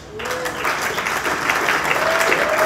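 A conference audience applauds a couple, swelling into loud, steady clapping that grows denser and continues throughout, with a faint voice briefly audible underneath.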